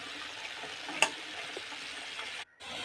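Quiet sizzling in a pan of cucumber curry, with a single clink of a utensil and soft scraping as it is stirred.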